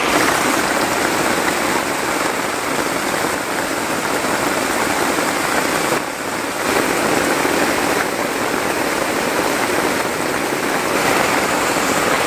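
Heavy rain pours down on a campsite in the middle of a forest, a dense, steady hiss that fills the whole stretch without pause, loud and close with no voices.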